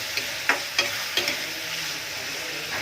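Turmeric is stirred into potatoes and onions frying in a pan, with a steady sizzle under a few scraping spoon strokes against the metal.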